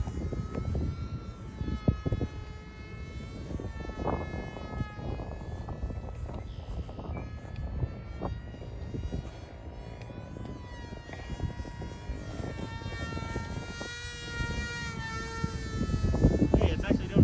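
Small Mini Aeroscout RC airplane flying overhead, its electric motor giving a thin rising and falling whine that stays fairly faint amid outdoor wind noise and handling bumps.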